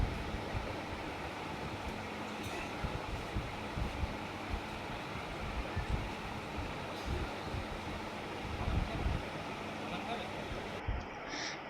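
A steady, low rumble and hiss of a moving train fill the space, with faint clatters now and then and no clear talk.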